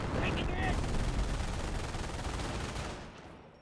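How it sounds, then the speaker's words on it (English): Heavy cannon fire and battle noise from a Panther tank in the real-time strategy game Company of Heroes, a loud dense roar of blasts and crackle that fades out toward the end. "Panther still firing away."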